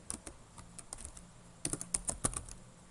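A computer keyboard being typed on while writing JavaScript code: soft, irregular keystroke clicks, sparse at first and then quicker, louder taps toward the end, close by with no talking.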